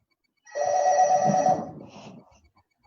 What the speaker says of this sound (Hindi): एक मिनट मेरा फोन बज रहा है